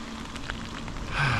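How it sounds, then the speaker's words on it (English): Steady rain falls on leaves and pine needles in a Swedish forest, a soft continuous hiss close around the listener with no talk. "The rain sounds really pretty in the forest. It sounds kind of like shh, hitting all the leaves and the pine needles."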